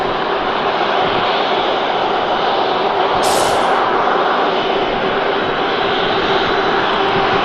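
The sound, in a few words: Embraer ERJ 145 jet taxiing at Manchester Airport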